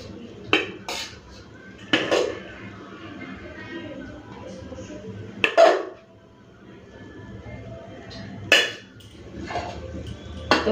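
Dishes and cutlery clink as cooked rice is served onto plates in a home kitchen, several sharp knocks spaced apart over a low background murmur.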